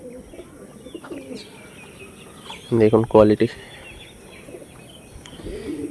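A pigeon gives a short, loud burst of throaty cooing near the middle, close and clear, with a voice speaking briefly around it and faint bird sounds in the background.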